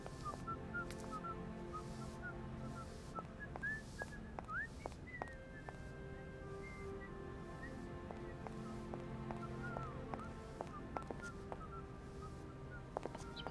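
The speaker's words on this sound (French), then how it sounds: "Ah, il y a quelqu'un qui siffle là." A person whistles inside the Syberia video game, thin melodic tones drifting over a steady bed of mechanical background ambience that continues throughout.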